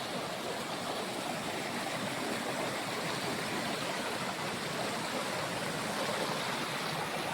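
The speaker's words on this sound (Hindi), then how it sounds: "यहाँ झरना बहता रहता है।" A waterfall on the Mandakini river at Chitrakoot gives a steady, even rush of falling water that fills the whole stretch, moderately distant, with no voices.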